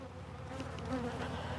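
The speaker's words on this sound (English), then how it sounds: "See the bee with the pollen on her legs?" Honeybees buzzing steadily at an open hive while workers feed brood, a dense continuous drone of many wings close by, fairly even in level throughout with no voices.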